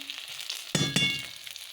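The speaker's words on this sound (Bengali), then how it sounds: "মাছগুলো একটু নরম নরম ওই জন্য খুব ভালো করে কড়া করে ভেজে নিলাম" Bata fish crisp up in a frying pan, giving a faint, quiet sizzle with a brief louder burst of spitting oil partway through.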